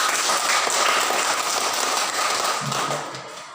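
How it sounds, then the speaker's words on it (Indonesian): A classroom of students applauds a student group, a dense, steady wash of clapping that holds for a few seconds before fading slightly at the end. "Tepuk tangan untuk kelompok 1."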